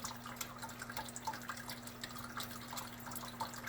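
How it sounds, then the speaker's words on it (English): Wort drips from about 16 pounds of wet brewing grains into a kettle during a lager brew day, a faint, irregular patter of small drops over a steady low hum. "Just gonna let it drip, get all that out while the kettle starts to come up."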